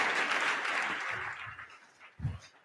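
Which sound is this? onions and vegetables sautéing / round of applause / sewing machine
round of applause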